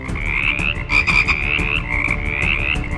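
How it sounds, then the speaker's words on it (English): A great many frogs croak in an animated Bible film about the plague of frogs in Egypt, a loud, continuous chorus of overlapping rising croaks close up, with no talk. "Let the waters bring forth the frogs in abundance."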